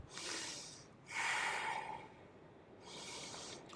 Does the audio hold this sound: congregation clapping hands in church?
no